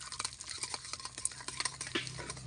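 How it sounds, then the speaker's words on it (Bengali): Ghee being stirred in a kadai with a metal spoon, scraping and clinking in quick irregular strokes over a faint sizzle, close and fairly quiet, with no talking. "ঘিটা একটু নাড়াচাড়া করে নেওয়া হোক।"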